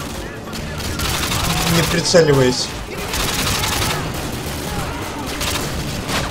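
Dense, continuous gunfire in Call of Duty Modern Warfare 2 rattles on loudly throughout, with a brief spoken word and a short tonal whine midway.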